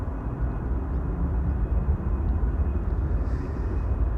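A Boeing 787 Dreamliner arriving from Mumbai on final approach to runway 27 at Amsterdam Schiphol, heard as a steady, broad low engine roar and rumble, fairly distant and continuous, with no talk.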